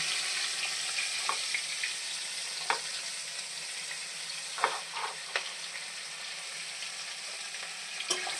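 Chopped onion frying in mustard oil for chicken kosha, a steady quiet sizzle broken by several sharp scrapes and clicks of a spatula stirring the pan, no talking.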